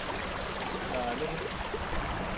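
Strong river current rushing past during a fishing outing, a dense continuous broadband wash of moving water, steady and close throughout.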